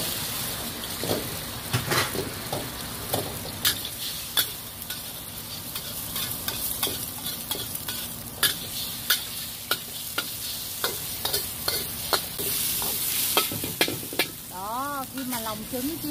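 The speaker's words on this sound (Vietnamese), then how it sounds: "mình mới cho trứng đâu, cho lòng trắng trứng vô mình chiên nha." Egg whites fry in melted lard in a pan for Yangzhou fried rice, giving a steady close sizzle broken by scattered clicks and scrapes of stirring, with no talking.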